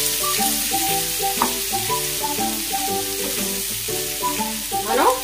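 Ivy gourd pieces fry with salt in a pan while being stirred, making a loud continuous sizzle with occasional scraping and clattering of the spoon.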